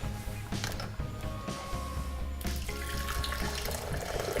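Stock poured from a container into a pan while cooking, a continuous close splashing pour that holds steady for several seconds without any talking.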